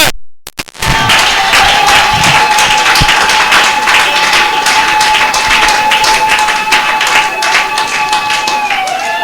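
A church congregation applauds during a wedding blessing service, dense steady clapping filling the space for about nine seconds after a brief quiet start, with a sustained tone running underneath.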